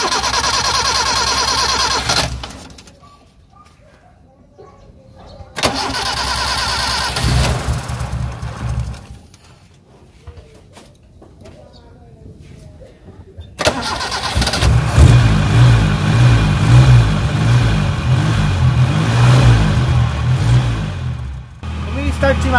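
A car engine cranks and starts after some handling noises, then idles and revs loudly and close by, with brief talk mixed in.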